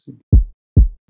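Two deep, punchy kick drum hits from a sample in FL Studio, about half a second apart, preceded by a short soft tick, loud and dry with silence between.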